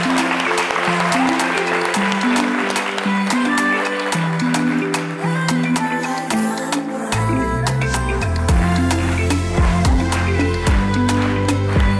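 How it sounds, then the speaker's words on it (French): Church audience at an Easter midday gathering applauding steadily for a singer, a dense continuous clatter of clapping that carries on while music begins underneath. "sous vos applaudissements."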